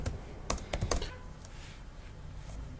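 A burst of quick clicking keystrokes on a computer keyboard as a Go install command is typed, several close taps early on, then quieter, sparser presses.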